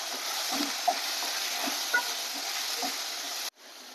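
Soaked chana dal tipped into a pan of browned onion, frying with a steady soft sizzle and a few quiet stirring scrapes, then a sudden cut near the end.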